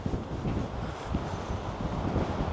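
Strong gusting wind buffets the microphone on an open coast by a marine reserve and marshland, a steady roaring rumble with no voices.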